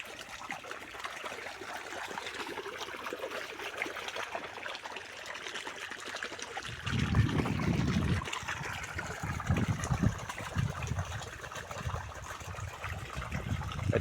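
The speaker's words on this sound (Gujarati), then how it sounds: "અત્યારે આ પાણી ચાલુ છે, આ છેલ્લું પાણ છે હવે આંબામાં।" Irrigation water runs steadily in a mango orchard on a farm, a continuous trickling flow that grows louder and more gurgling about halfway through. No one speaks.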